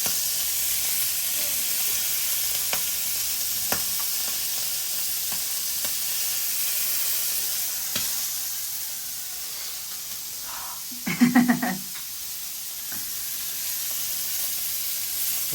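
Prawns frying in a pan, a steady soft sizzle and hiss throughout, with a brief louder crackling burst near the end as more are added.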